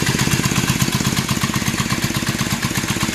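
A 1974 Kawasaki KZ400 cafe racer motorcycle engine idles at about 1,000 RPM, a close, loud, even pulsing putter with a steady rhythm throughout and no talking.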